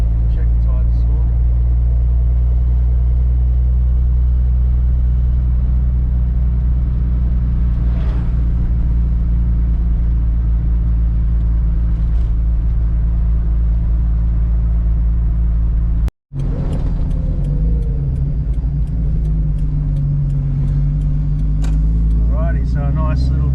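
A turbocharged car cruises along the Esplanade coastal road in Aldinga, a steady low engine and tyre rumble throughout with a brief cut, then continued driving noise with faint whirring.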